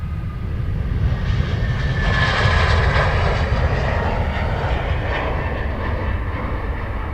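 Aircraft engine roar at Dublin Airport, a loud sustained jet rumble that swells toward the middle and holds, heard alone without talk.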